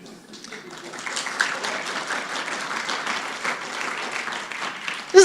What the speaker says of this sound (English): To clap with energy.